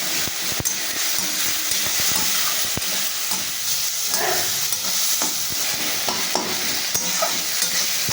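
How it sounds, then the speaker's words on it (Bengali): Spices and chopped tomato sauté in a hot pan for a Bengali fish curry, a steady loud sizzle broken by repeated scraping stirs of a spatula, close and continuous with no voices. "এবার আমি মশলাটা একসঙ্গে খুব ভালো করে কষাবো।"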